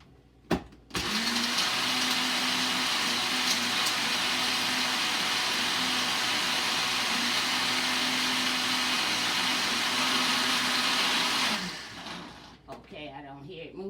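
A blender crushes dry seasoning and bouillon in one loud, steady whirring run of about ten seconds, close up, with a brief clatter at the start and handling noise after it stops.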